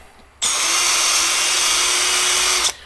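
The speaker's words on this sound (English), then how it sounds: "drill out the holes that were supplied with the drill bit with the kit" A power drill reams out the holes in plastic RC car parts, upgrade parts for an Arrma Talion EXB, starting abruptly with one steady high whine that runs close and loud for about two seconds before stopping sharply.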